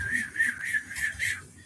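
A human voice imitates a short steam whistle sample looped over and over: a steady whistled tone that pulses in quick, even repeats with audible seams between them.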